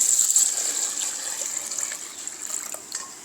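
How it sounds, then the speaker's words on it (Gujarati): Water gushes from a tap or jug into a vessel of washed wheat grains, a steady hissing pour that eases slightly as it goes, close and moderately loud. "તો આપણે પાણી નાખી દઈશું."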